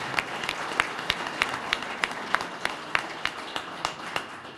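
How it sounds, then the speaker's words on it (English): A crowd at a fire department ceremony for a new heavy rescue unit gives a round of applause, steady clapping with distinct nearby claps at a regular pace throughout. "Give her a round of applause."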